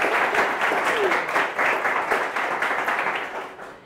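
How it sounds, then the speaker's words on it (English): A conference audience applauds, a dense burst of many hands clapping steadily that fades slightly at the end. "I wanted to ask you for an applause"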